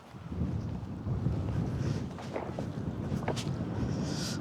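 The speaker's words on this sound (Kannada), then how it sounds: "ತುಂಬ ಚಳಿ ಇದೆ, ತುಂಬ ಗಾಳಿ ಬೀಸ್ತಾ ಇದೆ" Strong cold wind gusts across the mic beside the Umngot River at Dawki, Meghalaya, a continuous buffeting roar with a few faint clicks and rustles.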